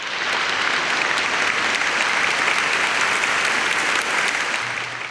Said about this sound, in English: we'll give them a well-deserved piped-in applause